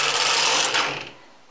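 A knitted piece is pulled down off a knitting machine, giving a loud, steady dense rasp of yarn and carriage sliding for about a second, then easing off and fading.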